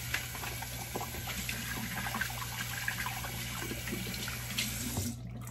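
A bathroom tap runs steadily, splashing as razor blades are wetted before shaving, with close, even water noise that cuts off near the end and no voices.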